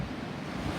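Ocean surf washes onto a beach in front of a beachfront condo: a brief, steady, soft rush of waves with some wind noise and no voices.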